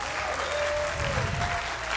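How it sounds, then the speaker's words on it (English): Brief burst of audience applause for a chess team's silver medal at the PRO Chess League finals, a dense wash of clapping over a faint lingering tone and low murmur. "let's give them a huge round of applause for the silver medal"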